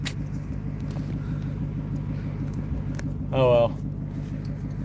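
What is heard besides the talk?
Ford Mustang GT350 engine idling down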